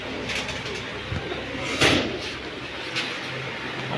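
A pair of chuitail pigeons coos nearby in soft, low, repeated calls over a faint background murmur, with no speech.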